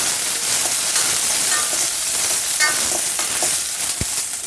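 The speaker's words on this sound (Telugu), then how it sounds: "కొంచెం ఆయిల్ వేసేసుకొని పచ్చిమిరపకాయలు వేసుకుందాం" Green chillies sizzle and crackle in hot oil in a pan, a dense continuous hiss with scattered pops and one sharp knock near the end.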